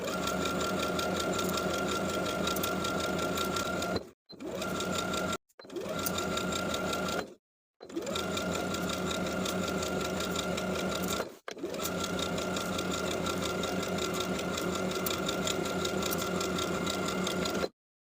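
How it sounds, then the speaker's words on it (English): A sewing machine edge stitching a wrap skirt's waistband runs in a steady, fast mechanical whir, close and continuous, broken by four brief pauses before stitching resumes. "Then continue edge stitching the belt all the way to the opposite short end."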